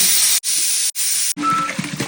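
A pressure cooker of beef curry whistles in loud, sustained steam hisses, cut by short silent gaps, then giving way to quieter sputtering and bubbling with a faint tone.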